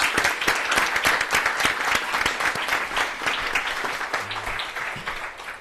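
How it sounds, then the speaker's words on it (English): Sustained applause from an audience at a school board meeting honoring first-place winners, a dense steady wash of clapping that holds for several seconds at even strength. "Let's give these first place winners a big round of applause again."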